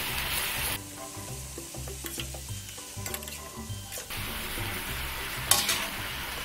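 Baby octopus stir-fried for pansit canton, with a close, steady sizzle and repeated clatter of stirring in the pan, a brief sharp scrape near the end.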